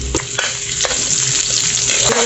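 Onion frying in hot oil alongside garlic for adobong sitaw crackles in a dense, continuous sizzle, with occasional sharp stirring clicks and scrapes and no talking.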